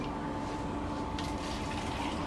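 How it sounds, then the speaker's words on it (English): Tap water being poured out of a container during a water comparison at a lakeside restaurant in Bellevue, a continuous, even splashing gush with no voices. "we can even pour some of that out to give our viewers a better view"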